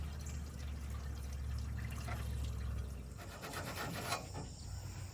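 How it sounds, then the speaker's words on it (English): Water being poured to top off antifreeze in the radiator of a Ford 2000 tractor, a steady close liquid rush and trickle that runs for about three seconds before thinning into intermittent splashes and rubbing. "I'm going to top that off with some water"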